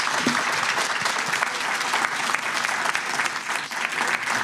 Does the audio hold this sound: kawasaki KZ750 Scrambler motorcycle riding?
no